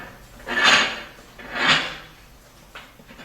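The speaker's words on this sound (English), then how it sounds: "just close the primary air control here" The primary air control slider on a Horse Flame Precision II multi-fuel stove is pushed shut in two distinct metallic sliding strokes, close and fairly loud, followed by a faint click.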